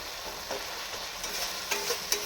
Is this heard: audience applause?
no